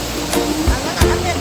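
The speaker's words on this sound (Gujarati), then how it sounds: "નદી ઓવરફુલ થઈ ગઈ ફૂલ પાણી આવી રહ્યું" An overflowing river rushes in a continuous broadband roar, close by and fairly loud, with a couple of brief splashy bursts on top.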